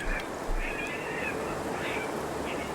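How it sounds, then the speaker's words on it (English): Cats yowling and caterwauling in a scrap in Kingdom Come Deliverance 2, with repeated wavering screeches rising and falling over a steady ambient hum. "That's a legitimate cat fight."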